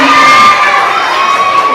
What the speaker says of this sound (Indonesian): tepuk tangan untuk kelas Zubair bin Awam